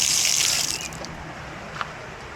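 Strong rush of water from an outdoor faucet beside a campground bathroom, loud and close at first, then easing to a softer trickle with a faint clink.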